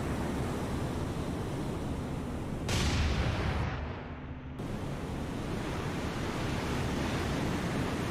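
Naval gunfire in the War on the Sea video game: a broad roar of rushing noise holds steady, and one loud boom swells briefly around the middle before the din settles back to a constant wash.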